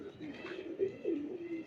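A female pigeon of a fancy breed such as Ferozpuri or Teddy gives a few soft, low coos close by, with a quieter hum in the background.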